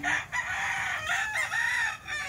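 A young stag gamecock crows once, a loud, close, strained call lasting about two seconds with wavering pitch and no other voices.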